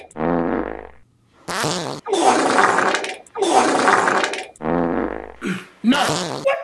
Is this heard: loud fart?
yes